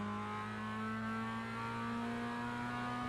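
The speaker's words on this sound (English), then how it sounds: "So rev limiter" A race car engine held against its rev limiter under braking, a steady, loud, buzzing drone with fixed pitch and no breaks, close up.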